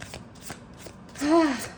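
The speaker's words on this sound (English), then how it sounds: "So I'll just shuffle some more cards for you" Tarot cards being shuffled by hand, a series of soft riffling flicks up close building into a louder ruffling burst, with faint voice in the background.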